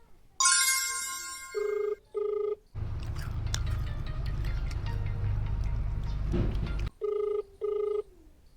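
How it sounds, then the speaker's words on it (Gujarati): An outgoing phone call rings back in paired electronic tones, twice at the start and twice at the end, with a loud noisy stretch between them. "હજી એક રિંગ કરી લઉં"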